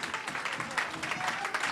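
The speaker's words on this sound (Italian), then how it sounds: "Allora io direi di fare un bel applauso a queste signore che si sono messe in gioco" An audience claps for the women who competed in a cream-puff eating contest in Orentano, Pisa, a steady dense patter of many hands held close and lively for a short stretch.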